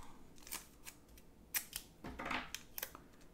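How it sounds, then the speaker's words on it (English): Short, crisp tearing bursts come from washi tape or paper being ripped by hand to decorate a planner, several quick rips close up and quiet, with no talking. "Let's just rip a little bit."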